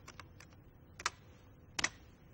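A few short, light taps on a laptop keyboard while entering a search, scattered keystrokes in a quiet room with a couple of louder clicks toward the end.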